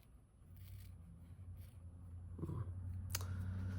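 A few quiet snips of paper scissors trimming ribbon, close by, with a sharper cut near the end over faint background hum.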